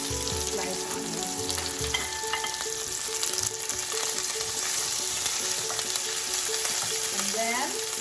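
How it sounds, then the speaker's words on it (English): Sliced onions fry in oil for yellow lentil dhal, a dense, continuous close sizzle with a faint tonal hum and occasional stirring scrapes underneath, no talking. "we can add the onions. It's a sliced onions"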